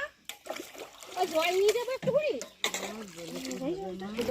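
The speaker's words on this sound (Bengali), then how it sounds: "গামলাটা ধুয়ে আর জল নিয়ে যাচ্ছি" Cold water is splashed and poured at an outdoor riverside ghat during a hot-weather picnic, with steady sloshing and dribbling close by, mostly under a person talking throughout.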